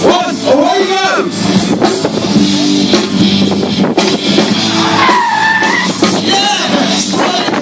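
Ford car reverse-parking at the Fordfair show, tires squealing and skidding loudly with engine revving close by, as a crowd and people shout and talk around it.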